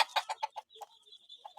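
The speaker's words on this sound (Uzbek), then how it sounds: "Bizning gigant germanskiy endi o'tkalarimiz." German giant breed chickens cluck in a series of close, loud calls, followed by a thinner, higher sustained call and a few more clucks near the end.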